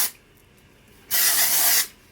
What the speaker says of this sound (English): So what I do is I spray it just at my roots.